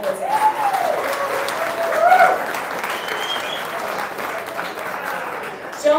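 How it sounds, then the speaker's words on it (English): Steady audience applause fills a hall at a volleyball league athlete draft, dense clapping from a crowd lasting throughout, with a few faint voices mixed in. "So big round of applause for those guys"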